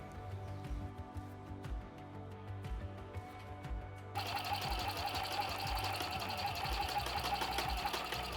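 A sewing machine stitches through fabric with quilt batting sandwiched in for a bag handle, its steady motor whir running close and continuous, growing noticeably louder and brighter midway through.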